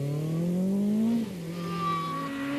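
A Lancia Delta S4 rally car at the 1986 Monte Carlo Rally roars past at close range, its engine note climbing hard under acceleration before dropping sharply as it passes, then revving on with a sustained raspy drone.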